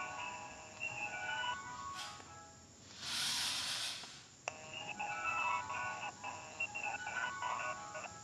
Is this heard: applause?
no